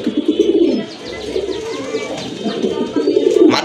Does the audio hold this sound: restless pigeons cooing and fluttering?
yes